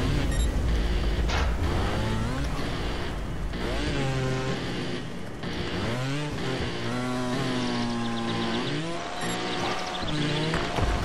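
Dirt bike engine in the game Trials Fusion revving hard and dropping repeatedly, rising whining pitch sweeps under throttle with short lulls between bursts, loud and close throughout.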